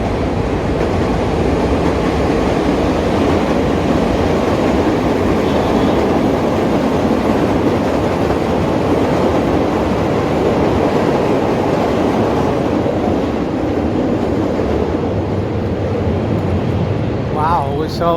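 Another downtown Chicago train roars by on elevated tracks, a loud unbroken rumble and rattle lasting many seconds, easing slightly near the end.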